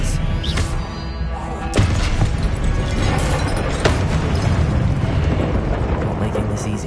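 Expelliarmus spell cast in Hogwarts Legacy, heard as a dense, loud magical blast with sharp cracks near the two- and four-second marks over a continuous rumbling game mix, with talking mixed in.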